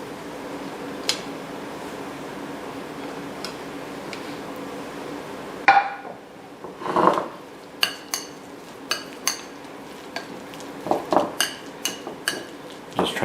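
Smoked salmon terrine ingredients are stirred in a bowl, giving a run of light clinks and scraping knocks of utensil against the dish, irregular and close, some clustered in quick bursts after a quiet stretch.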